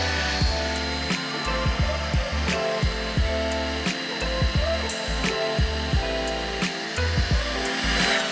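Polishing machine working a pad across car glass with Sonax glass polish, a loud continuous motor whine with rhythmic dips and rubbing scrapes as the pad moves.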